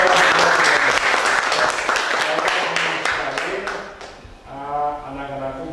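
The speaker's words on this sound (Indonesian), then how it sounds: "Ya, kita tepuk tangan untuk" Students clapping for their classmates in a university teaching session, a loud, dense burst of applause that thins out toward the end as a voice begins talking.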